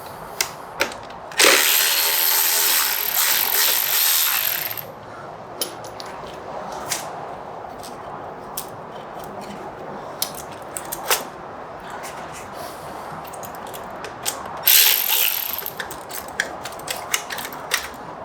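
Ratchet work on an exhaust bracket of a 2022 BMW S1000RR during an SC-Project exhaust install, with two long bursts of rapid clicking separated by scattered light metallic ticks and taps close by.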